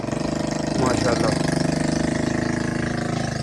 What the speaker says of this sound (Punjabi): ਤੇ ਇਸ ਤਰਫੋਂ ਦੇਖ ਲਓ ਸੈਲਫ ਸਟਾਰਟ ਟਰੈਕਟਰ